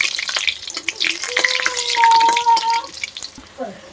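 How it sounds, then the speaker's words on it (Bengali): Cinnamon and cardamom fry in oil in a pan for a pointed gourd and prawn dish, making a close, continuous sizzle with some stirring clinks while a person speaks over it. "দারচিনি এলাচ দিয়ে দিলাম দিয়ে এগুলোকে হালকা করে একটু ভাজা ভাজা করে নেবো"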